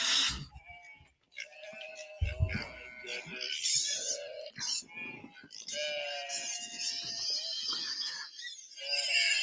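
Several goats bleat loudly and repeatedly at an animal sanctuary in Punta Gorda, Florida, with overlapping calls from the herd close by and people talking over and between them.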